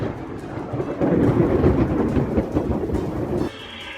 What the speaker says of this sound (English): If you can still hear thunder, the storm is still close enough to be dangerous.